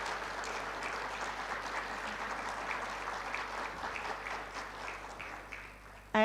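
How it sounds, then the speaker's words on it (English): Graduation ceremony audience at Unisa Ethiopia gives a round of applause, steady moderate clapping throughout the hall that fades slightly before an abrupt louder sound at the very end. "So can you please give them a round of applause?"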